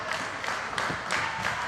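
A crowd at a women's wrestling match cheers and claps for Jenny Rose, a dense wash of noise with rhythmic swells of clapping throughout.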